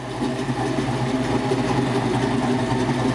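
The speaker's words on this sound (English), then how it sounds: "a 1986 Mustang GT Convertible." A 1986 Mustang GT Convertible engine idles at a steady, even rumble close by, loud and continuous with no voices over it.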